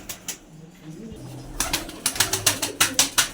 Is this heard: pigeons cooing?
yes